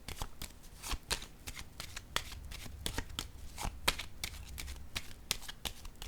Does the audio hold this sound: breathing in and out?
no